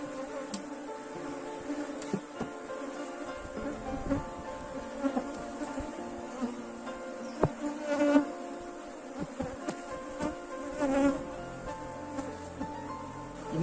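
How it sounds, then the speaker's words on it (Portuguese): An agitated honeybee swarm during a hive division hums in a dense, steady buzz, with individual bees whizzing close past in sharp rising and falling passes; no talking. "Por isso que o enxame está bem agressivo, né?"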